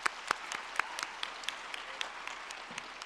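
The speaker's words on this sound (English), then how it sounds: "Another round of applause for our speakers." Scattered applause from a conference session audience, fairly sparse and thinning out, with distinct individual claps standing out over a soft wash of clapping for about three seconds.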